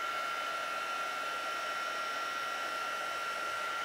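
A heat tool blows a steady, even whoosh of hot air over embossing powder for a craft background, holding at one level for the whole stretch with no talk.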